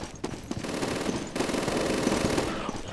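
Rapid bursts of machine gun fire in the World War II shooter Day of Defeat: Source, sustained rattling automatic fire with short gaps, fairly loud and mostly without voices.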